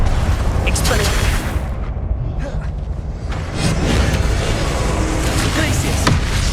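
Dense spell-combat effects from the Hogwarts Legacy video game as an Expelliarmus disarming spell is cast: continuous loud blasts, whooshes and sharp impacts layered without pause, with no talk.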